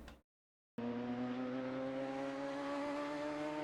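A race car in Gran Turismo holds a steady, loud engine note under full throttle, with a sustained tonal drone that starts right after a short silent gap.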